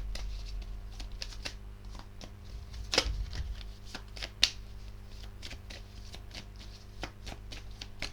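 Tarot cards being shuffled, handled and turned over at close range, a quiet, continuous run of soft flicking and shuffling with a few sharper snaps and slaps.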